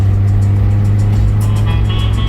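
A car's engine hums low and steady as it drives, with a gentle rise in revs toward the end, filling the space continuously and fairly loud without any talk.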